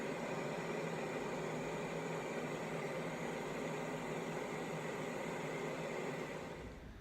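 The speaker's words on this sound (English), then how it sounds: "However, this was a fan. Here it is." An electric fan blows steadily, a dense even whoosh of air held at constant loudness to lull a listener to sleep, then easing off slightly at the very end.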